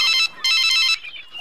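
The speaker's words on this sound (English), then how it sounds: "Oh, my phone is ringing." A mobile phone ringtone sounds in two loud, bright electronic bursts separated by a short gap, followed by a brief faint tail.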